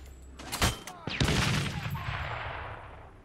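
Gunfire in a soldier shooting video game: a loud sharp shot followed by a burst of rapid fire and booming echoes that trail off, with faint speech-like sounds in the mix.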